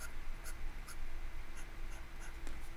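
A gold fountain pen nib, held at a steep angle for a broad line, scratches across paper in short, close strokes with a steady dry rasp and no talking.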